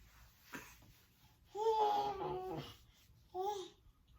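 A seven-month-old baby boy babbling repeated da-da syllables in two short bursts, close and clear, with quiet breathy sounds between.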